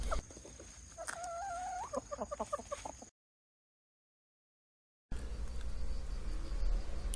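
Chickens on a farm cluck and cackle close by in short, rhythmic bursts over a steady hum of insects, then fall silent before the ambient buzz returns.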